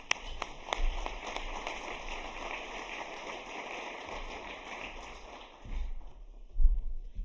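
A conference audience at an Alaska innovation summit gives dense, steady applause to welcome a commissioner to the stage. The clapping fades out near the end, leaving a few scattered thumps.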